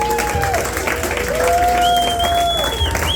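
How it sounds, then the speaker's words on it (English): Comedy club audience applauding at the end of a stand-up set, a steady, fairly loud burst of crowd clapping with a few whoops, mixed with a faint tonal whine and some background voices. "Clap it up for Tim Lovett."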